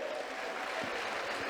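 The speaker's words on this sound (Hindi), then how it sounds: "मैं चाहूंगा कि एक बार जोरदार तालियों से इन सभी का स्वागत करें।" An audience applauds after a children's dance, giving a continuous burst of dense, fairly loud clapping from many hands with no pause.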